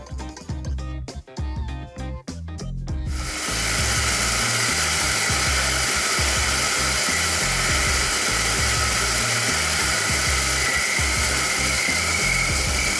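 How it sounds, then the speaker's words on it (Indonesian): A Latina 600N coffee grinder starts up and grinds coffee beans in a steady, loud, continuous whir that runs uninterrupted to the end, after a few brief clicks and handling noises at the start. "Tekan tombol on untuk memulai gilingan."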